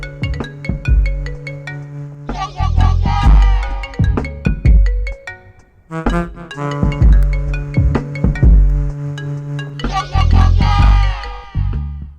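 A mobile phone plays a ringtone melody for an outgoing call, a loud, clear repeating musical pattern of bright tones that continues throughout with short pauses between phrases.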